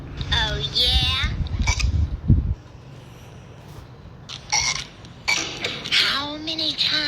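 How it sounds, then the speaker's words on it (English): Cartoon characters burp loudly in a burping contest, a few long, rumbling belches mixed with excited kid-like voices and cartoon sound effects, then talk continues. "I absolutely forbid burping in this household."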